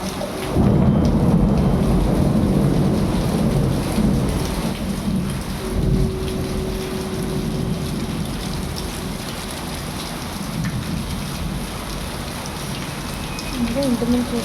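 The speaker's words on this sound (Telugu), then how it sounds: "ఇంత పెద్ద వర్షం వచ్చింది." Heavy night rain pours down in a dense, loud and unbroken hiss, with deep rumbles of thunder rolling underneath throughout.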